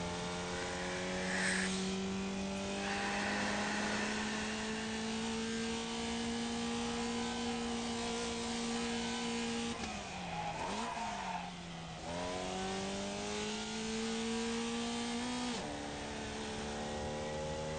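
A race car engine in the iRacing sim revs high and steady, a loud buzzing whine that climbs, dips sharply when the driver shifts gear, then rises again, with faint tire squeal.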